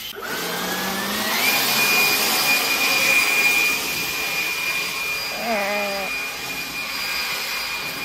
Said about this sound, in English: Oh, no, he's got the blower.